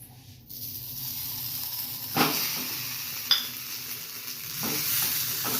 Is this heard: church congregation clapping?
no